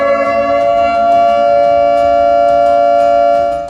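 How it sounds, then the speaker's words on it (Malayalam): Civil defense siren of Ponnani municipality sounding for breaking the Ramadan fast, a loud, steady sustained wail holding one pitch throughout, with no talk over it. "ഇതാണ് പൊന്നാനി നഗരസഭയിലെ പീലൂത്ത് അഥവാ സൈറൻ."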